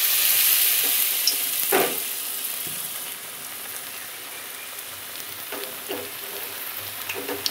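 Pumpkin flower pakoras frying in hot oil give off a steady, close sizzle and hiss, with a few faint clinks scattered through it.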